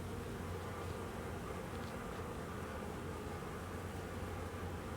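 Honey bees swarm densely around a large hive cavity, giving a steady, loud droning buzz that fills the whole stretch with no break and no voices.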